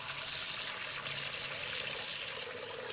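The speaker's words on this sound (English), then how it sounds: "I'm going to be filling this with water anyway." Tap water runs steadily into a bowl that still holds a little pizza dough residue, a continuous close hiss and splash with no talking.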